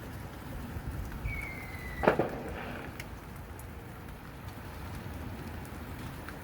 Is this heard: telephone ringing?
no